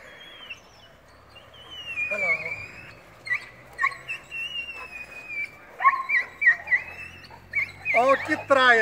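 Several dogs at an outdoor event in Santa Vitória, Minas Gerais, yelping, whimpering and barking in rising, overlapping bursts that grow busier toward the end, mixed with people talking nearby.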